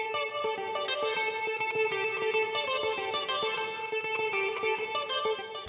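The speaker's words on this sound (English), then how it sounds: "Pre-delay introduces a delay between the dry or original sound and the reverberated sound." A reverb effect with pre-delay washes over a rhythmic, chorus-tinged melodic phrase, and the notes blur into a steady, moderately quiet wash of echoing tone with no talking.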